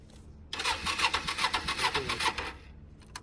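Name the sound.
motorbike engine starting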